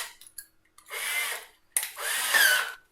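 A power drill with a 5mm bit bores a hole in wood in two sustained whirring bursts of about a second each, close and fairly loud, separated by a short pause.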